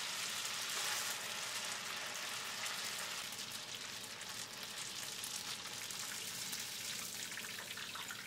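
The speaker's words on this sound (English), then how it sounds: "Like 30 seconds to a minute in hot peanut oil, 350-degree peanut oil." Steady, hissing sizzle of food frying in hot 350-degree peanut oil until crispy, a continuous bubbling crackle heard alone at moderate level.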